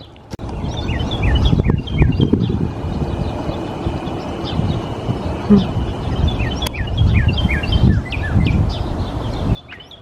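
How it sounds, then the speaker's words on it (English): Clear, repeated northern cardinal whistles ring out in a series of sliding chirps over steady outdoor rumble, with a sharp knock partway through. "It was a bird call I've never heard before, and I just discovered it's a cardinal."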